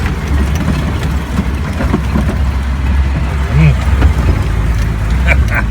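Car rolling over a small dirt pile in two-wheel drive, its engine a steady low rumble with bumps and rattles from a stiff suspension, voices talking over it throughout.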